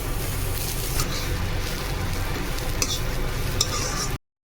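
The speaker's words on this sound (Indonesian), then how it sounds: "Ini aku tumis kolnya dulu ya sampai mateng gitu, sampai benyek nanti" Cabbage being stir-fried in a pan, a steady close sizzle with scraping spatula strokes running throughout, ending abruptly; no one speaks.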